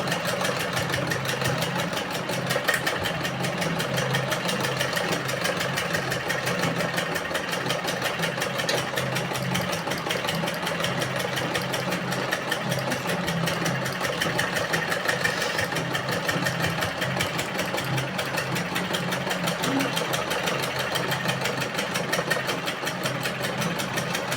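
Sewing machine running steadily for a long stretch, stitching close along the edge of a round neckline with a cross-piece binding; a continuous mid-level motor whir with no talk over it.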